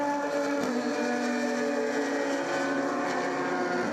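An SCCA Prototype 1 race car with expansion-chamber exhaust, running onto the banking at the 2015 Runoffs, drones steadily at high revs with a buzzing, boat-like tone, loud and continuous without a clear pass-by swell.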